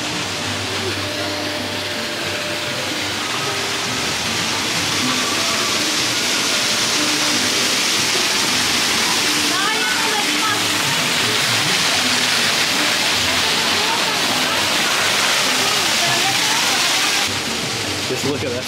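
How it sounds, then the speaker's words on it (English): Water gushing from a feature beside the giant sculpted tree at Disney's Animal Kingdom theme park, a steady loud broadband rush lasting throughout, with crowd chatter underneath. "You see the water going off."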